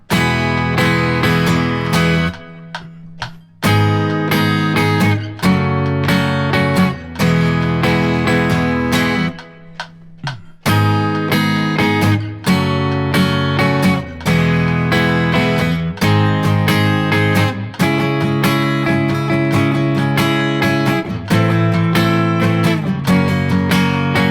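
Strummed guitar chords ring out in a steady rhythm, changing every bar or so with brief pauses between phrases. No one speaks.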